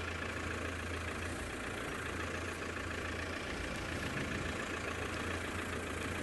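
A safari game-drive vehicle idles at Black Rock while a lion is watched: a steady, low, droning engine hum runs without a break and with no talking.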